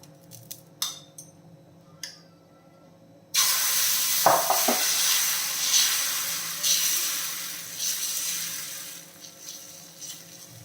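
Ragi flour and moong dal dosa batter hits an oiled, hot griddle with a sudden loud sizzle that keeps hissing close by, following a few quiet clinks and taps.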